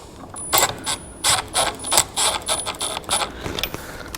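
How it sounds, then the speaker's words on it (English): Bolts being snugged down with a ratchet during a Tremec TKX five-speed transmission install in a Camaro, loud close clicking in a series of short rhythmic bursts, roughly ten quick strokes, with no talking. "I'm going to take the slack out of these bolts before I start torquing down."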